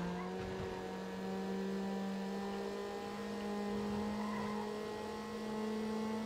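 Street racing cars in the video game NFS Underground hold a steady engine drone, rising slowly in pitch as they accelerate, loud and continuous with no talk over it.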